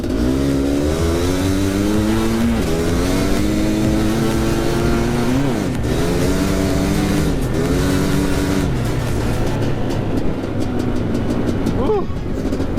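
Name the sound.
Yamaha Banshee or Suzuki LT500 Quadzilla quad accelerating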